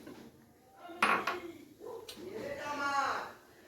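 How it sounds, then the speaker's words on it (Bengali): Mixed vegetables such as potato, carrot, pumpkin, beans and peas, plus bottle gourd greens, are dropped into a cooking pot, giving a couple of sharp clatters and then a longer scraping, sizzling rustle, close and moderately loud. "এরপরে দিয়ে দিচ্ছি বাকি সবজিগুলো"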